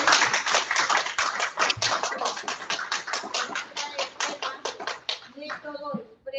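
An audience applauds a doctor at a talk on emotional healing. The clapping is uneven and fairly close, with separate claps clearly audible, and it thins out into a voice speaking at the end.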